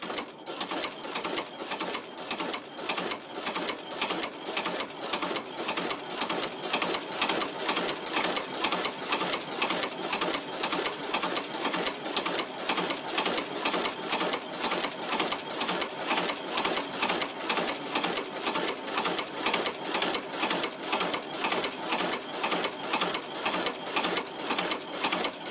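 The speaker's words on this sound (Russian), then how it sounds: "Ну и попробую сейчас прострочить джинс утепленный, толстый," A sewing machine stitches through thick insulated denim, running fast and steady with a tight, even mechanical clatter close up for the whole stretch, slowing slightly at the start, with no voices.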